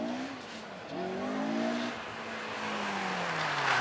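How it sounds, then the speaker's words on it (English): An Ariel Atom with a 2-litre inline-four Honda engine makes 245 horsepower as it revs on track, its pitch rising and falling through gear changes, loud and close. "So listen to the bark of the engine as it sucks in the air."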